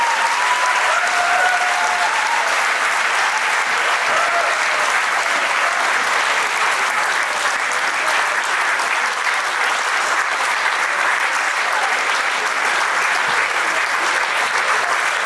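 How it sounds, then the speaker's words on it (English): Applause from an anniversary and retirement gathering at a restaurant carries on steadily for the whole stretch, a dense, even wash of many hands clapping without a break. "Can you give them a round of applause?"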